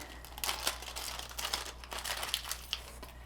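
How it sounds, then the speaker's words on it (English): Crisp plastic bag crinkles and rustles in quick irregular bursts as a sewing machine rainbow zipper pull is taken out, close and fairly quiet with no talking. "take it out of the plastic"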